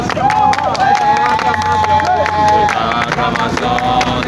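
A crowd at an outdoor evangelism gathering at Marché Banane in Libreville, Gabon, cheering and shouting with joy, a loud continuous roar of voices with shouts rising over it and no pauses.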